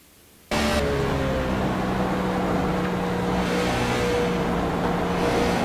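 An onboard race car at Darlington Raceway cuts in with a loud, sustained engine roar that holds steady and climbs slightly while accelerating out of turn four, with no separate tire squeal standing out.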